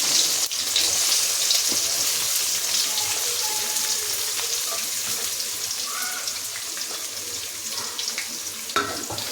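Onions frying in oil in a pan while being stirred, part of cooking a chicken kuzhambu gravy; a continuous close hiss and sizzle with scattered scraping clicks, no talking.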